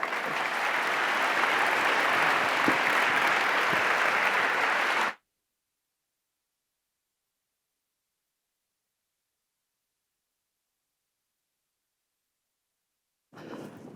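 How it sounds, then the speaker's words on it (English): An audience at a community partner breakfast for Orlando International Airport gives loud, steady applause for about five seconds, then falls silent before a faint resumption at the very end. "round of applause for Edward Russell"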